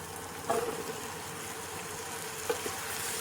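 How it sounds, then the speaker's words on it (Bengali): Boiled jackfruit goes into a pan of frying spices, with two soft drops and a steady oily sizzle that carries on loud and close throughout. "এবারে দিয়ে দেব সেদ্ধ করে রাখা এঁচড়।"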